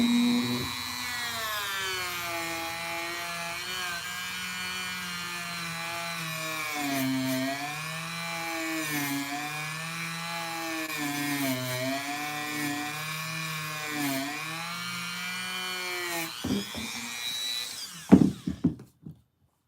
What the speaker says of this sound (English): I think the only way we're going to get them out is to sand it.